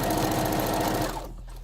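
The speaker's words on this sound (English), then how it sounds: "So now let's finish sewing until we get there." A sewing machine stitches a tube dress, a fast, steady mechanical whirring close by that runs for over a second, then cuts off.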